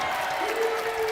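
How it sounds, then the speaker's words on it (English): Crowd at a college basketball game between the Yeshiva Macs and Amherst Mammoths erupts in steady applause and cheering, a dense wash of clapping that holds loud and even throughout the short moment, with a faint whistle-like tone running underneath. "And that gets the crowd to its feet"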